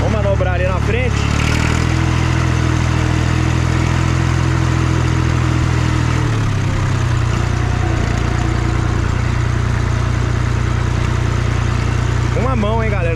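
A restored 1964 Massey Ferguson 50 tractor engine runs loud and close while maneuvering, with a steady low chugging drone that shifts pitch midway as someone talks over it.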